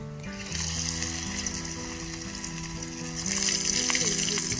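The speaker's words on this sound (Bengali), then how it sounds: "আর এক ব্যাচ ভাজা হয়ে গেল, আমি আরো একটা ব্যাচ ভাজতে দিয়ে দেবো।" Cauliflower pakoras deep-frying in hot oil, a steady dense sizzle that runs throughout and swells louder partway through, with no talking.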